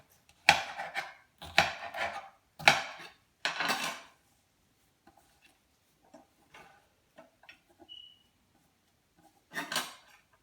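A knife chops fresh herbs on a cutting board in a few rapid bursts of crisp strokes up close, followed by scattered faint taps and then one more short chopping burst.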